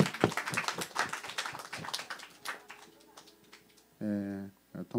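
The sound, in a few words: applause, audience clapping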